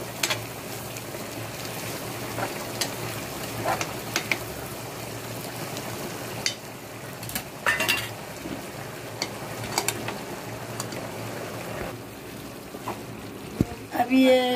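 Gosht ka achaar, a meat pickle, being stirred and roasted in a pan, giving a steady soft sizzling hiss broken by scattered scrapes and clicks, with a voice faintly in the background.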